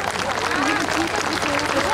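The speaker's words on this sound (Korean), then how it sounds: "여러분 박수로 맞아주시기 바랍니다." Spectators at the 85th National Chunhyang pageant applaud in a dense, unbroken wash of clapping while a voice speaks over it.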